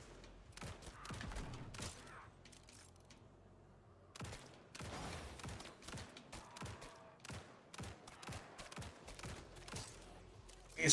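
Automatic gunfire in the video game Grind Survivors, bursts of rapid, sharp shots in clustered volleys with short pauses between, fairly quiet overall.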